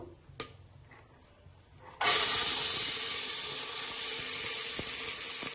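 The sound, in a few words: lentils frying in pan for sambar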